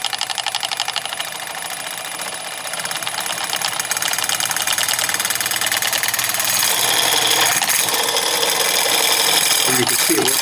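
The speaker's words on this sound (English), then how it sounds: "Let's start the magnet spinning." A powered magnet spins up on a flywheel rig, producing a loud, continuous mechanical whir and buzz that grows steadier and slightly louder as it runs, close and alone with no talk.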